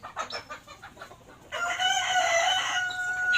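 Black Australorp chickens cluck in quick bursts at close range, then one crows loudly and steadily, the call carrying to the end.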